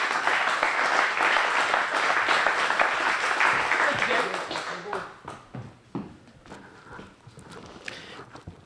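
An audience at a community storytelling event claps loudly to welcome a speaker to the stage, dense applause that tapers off after about five seconds, with a voice starting to talk as it dies down.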